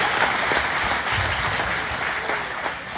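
Applause from an audience at a stand-up comedy set at a firefighters' benefit show: a dense, steady wash of clapping runs throughout, fairly loud and sustained with no talking over it.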